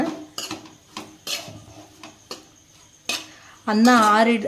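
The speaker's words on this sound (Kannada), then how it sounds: "ಇದನ್ನ ಚೆನ್ನಾಗಿ ಕಲಿಸ್ತಾನೆ ಇದನ್ನ ಅನ್ನನ ಸ್ವಲ್ಪ ಫ್ರೈ ಮಾಡೋಣ" Cooked rice being mixed and fried in a pan, with sharp metal spoon clanks and scrapes against the pan in irregular strokes, close, followed near the end by a brief voice.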